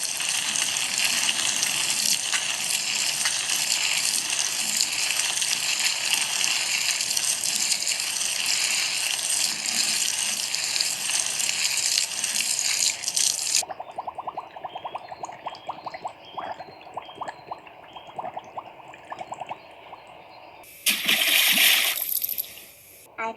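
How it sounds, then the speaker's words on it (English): A watering can pours water onto dried-up plants in a long, steady, hissing splash that abruptly cuts to a thinner trickle, then ends with a short loud gush. "It's a good thing I brought this watering can along for this mission, cause this will definitely come in handy to water these dried up plants."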